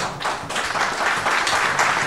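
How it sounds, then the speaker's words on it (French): A conference audience at Africa CommsWeek in Libreville, 2019, gives a speaker a brief, continuous round of clapping that stays fairly loud and steady throughout. "Je vous demande de l'applaudir, s'il vous plaît."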